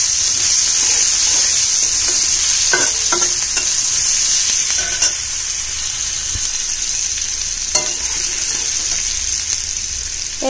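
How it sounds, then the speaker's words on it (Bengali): Chopped onion and potato frying in oil for a Bengali meat pulao, a steady close sizzle with occasional stirring scrapes and clatters throughout, no talk. "আলু আর পেঁয়াজটা আমি ভেজে নিব"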